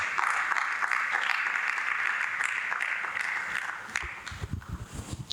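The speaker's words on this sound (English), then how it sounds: "Please, a round of applause" Conference audience applauds loudly and steadily for about four seconds, then the clapping thins out and is followed by a few footsteps.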